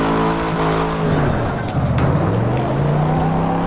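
Race cars roaring around a track in the PS4 racing game Wreckfest, a loud close engine drone with rising and falling revs as the cars accelerate and shift.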